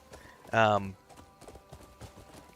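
Horse hooves gallop in the Crimson Desert video game: a faint, steady clip-clop rhythm runs through the clip, interrupted near the start by a brief, loud voiced burst.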